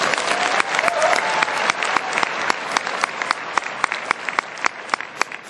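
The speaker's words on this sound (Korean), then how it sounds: "한번 큰 박수 부탁드립니다." Audience applause at a business presentation, a dense steady clapping from a large crowd with individual sharp claps standing out as it thins toward the end; no voices.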